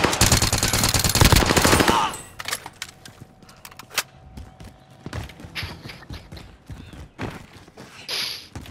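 Automatic gunfire in the video game Call of Duty: Modern Warfare opens with a loud rapid burst, followed by scattered shots, clicks and clattering game effects at lower level.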